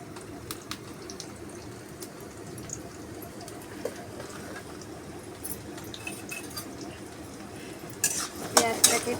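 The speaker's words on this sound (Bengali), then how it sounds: "পেঁয়াজটাকে একটু লাল লাল করে ভেজে নেব।" Onions sizzle steadily as they fry in a pan, with a utensil repeatedly stirring and scraping through them, and a louder clatter of cookware near the end.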